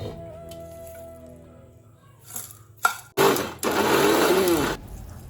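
A kitchen mixer grinder blends coconut and roasted gram into chutney. After some clatter it lets out a short loud whir, then a longer steady grinding burst that stops abruptly.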